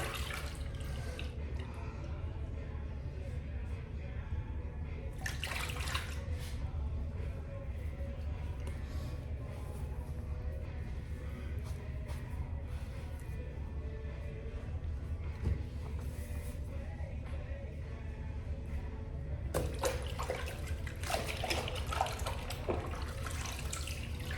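Water runs steadily from a tap during a shower-and-shave routine, a constant close rushing wash with a few brighter splashes and clinks, and no talking over it.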